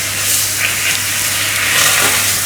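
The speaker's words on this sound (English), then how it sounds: "so you want to deglaze that with vinegar" A hot pan being deglazed with vinegar while cooking duck, giving a loud, steady hiss and sizzle that holds throughout, close up and without any talk.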